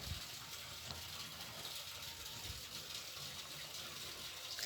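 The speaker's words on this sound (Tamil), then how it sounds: "இப்போ எல்லா பக்கோடாவையும் ஒன்று ஒன்றா போட்டு எடுத்துடலாம்." Cabbage pakoda fritters sizzle in hot oil, a steady, even hiss of frying that holds constant throughout without any voices.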